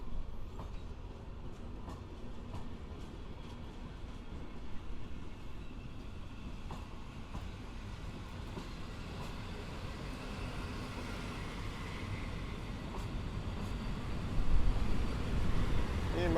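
A train rumbles steadily close by at Warszawa Wschodnia station in Warsaw, with a continuous low roar and faint rail clatter, near a locomotive, swelling louder toward the end.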